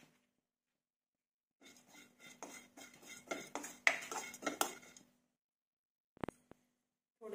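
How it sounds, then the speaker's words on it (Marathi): Grated coconut being dry-roasted in a pan for Khandeshi dhaba-style shev bhaji, heard as a burst of scraping and clinking of a spoon against the pan, followed by a short pause and two sharp knocks. "तर खोबरं आपल्याला भाजून घ्यायचं आहे."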